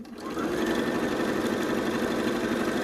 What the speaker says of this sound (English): put it under your presser foot, and sew to the seam right there